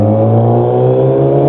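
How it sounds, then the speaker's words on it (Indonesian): A loud vehicle exhaust roars close by in a steady, deep, sustained rev, with no voices over it. "Kita knalpotnya meresahkan warga."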